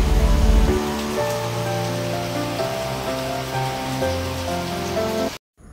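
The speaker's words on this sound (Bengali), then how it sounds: "তো আমি বারান্দায় দাঁড়িয়ে একটু বৃষ্টি বিলাস করছিলাম।" Rain falling during a Bangladeshi rainy spell, heard from a village home's balcony, a continuous soft patter and hiss over a faint tonal background, ending abruptly.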